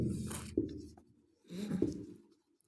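Chalk or marker writing on a board in two bursts of scratchy strokes separated by a short pause, close and clear with no talking.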